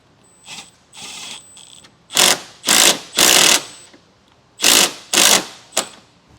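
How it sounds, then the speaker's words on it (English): Power driver running self-tapping screws back in on a LaSalle Bristol waste valve of a 2022 Grand Design Momentum G-Class RV: several loud, close whirring bursts in two groups, separated by short pauses, with no talk. "now we're just going to run our self-tapping screws back in place"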